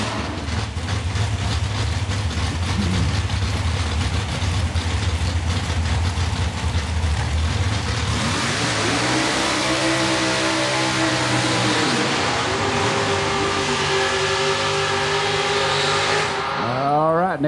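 Drag racing door cars, Nick Pope's Cobalt and Mark Fowler's Bronco in the main event final round, idle loud and lumpy before engines rise into rising revving sweeps as the cars launch, with crowd noise and announcer talk underneath.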